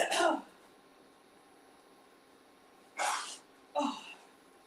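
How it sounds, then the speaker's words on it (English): A person blows their nose during a home cooking segment, three separate honking bursts, the first right away, then two more after a quiet pause, close to the microphone. "I gotta blow my nose"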